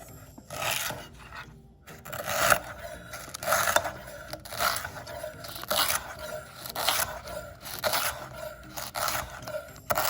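A knife chops through a lemongrass stalk in a rapid, regular series of close, crisp, fibrous cuts on a board, about two strokes per second, with no voices over it.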